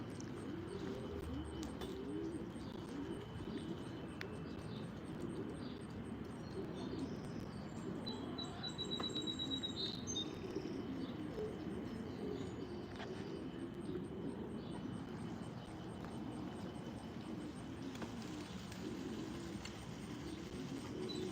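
Racing pigeons at a loft, soft cooing and faint chirps over a steady low outdoor hum, fairly quiet and distant throughout with no talking.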